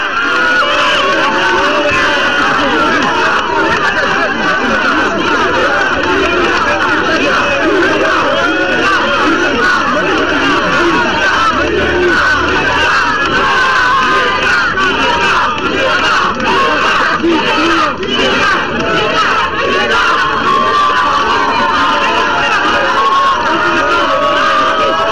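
A dense, loud crowd of Malians living in Morocco fills the air with constant cheering, shouting and babble as they welcome the president, a steady roar with no break from start to finish.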